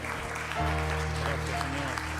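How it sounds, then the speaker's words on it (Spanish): A church congregation breaks into brief applause for the Lord, a short burst of clapping heard over a sustained musical tone with some voices mixed in. "vamos a dar un fuerte aplauso al Señor"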